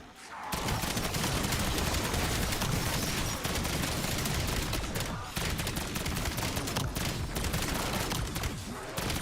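A giant light machine gun in Black Ops 7 firing long, dense sustained bursts, loud and close, with a couple of brief breaks in the stream of rapid shots.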